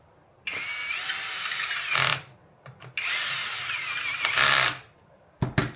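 A power drill whirs in two sustained bursts while installing a Floatwheel Atom part, each ending with a brief rising strain as it tightens, followed by short clicks and handling taps.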